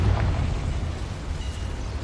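A Confringo blasting spell goes off in the Hogwarts Legacy video game inside a mine, a loud, deep rumbling explosion that booms at the start and keeps roaring steadily for about two seconds.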